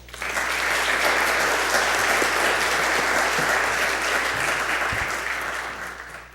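An audience at a lecture event gives sustained, steady applause to welcome Professor Onuki. The clapping is dense and even, then fades out at the end.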